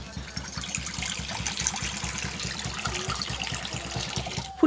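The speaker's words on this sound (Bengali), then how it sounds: "এবারে আমি ফুলকপিগুলোকে সেদ্ধ করে নেব। কড়াই জল দেব।" Water pours steadily into a wok to boil cauliflower, a continuous close splashing rush with a quick sharp clatter at the very end.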